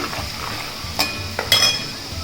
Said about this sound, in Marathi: हळद मीठ लाल तिखट घरगुती मसाला फ्राय करून घेते थोडा